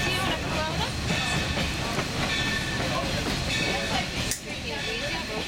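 The Essex steam train runs with a loud, continuous rumble and rattle of wheels on track, heard from inside an open car, with people talking over the noise.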